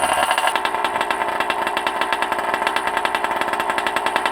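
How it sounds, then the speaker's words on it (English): A small OBR 47cc engine runs steadily during break-in, with a loud, rapid, even two-stroke buzz and a fast pulsing rhythm. "I'm gonna let it idle for about another 5 minutes."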